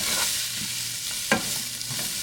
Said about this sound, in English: I'm going to get those onions nice and soft, sweat them down.